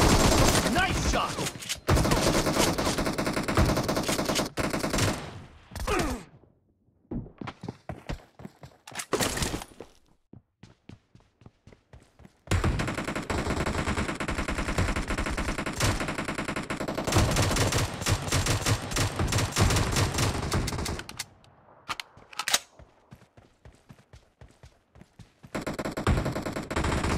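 Video-game gunfire in a team deathmatch, with loud, sustained automatic bursts and rapid single shots broken by brief pauses, dense and close throughout.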